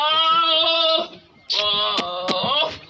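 Goats bleating loudly and close up, a lot of twelve animals offered for sale at a livestock market, with two long wavering calls separated by a brief pause and overlapping bleats.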